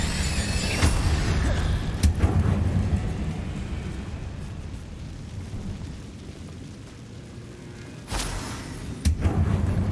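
An Incendio fire spell is cast in Hogwarts Legacy, a loud rumbling whoosh of flame with sharp bursts and booming impacts over a continuous game soundscape.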